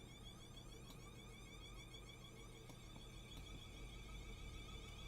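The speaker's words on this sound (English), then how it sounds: "and there goes the car alarm" A car alarm sounds in Train Simulator 2020 on the Bournemouth to Southampton route, a steady wavering electronic tone that holds at an even level through the whole stretch, mixed with a low background rumble.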